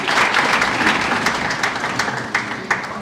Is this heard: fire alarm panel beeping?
no